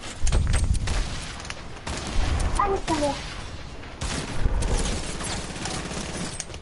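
Rapid bursts of SCAR rifle fire in a Fortnite-style battle royale game ring out in loud clusters, mixed with other in-game booms, while a French-speaking player talks excitedly over the shooting.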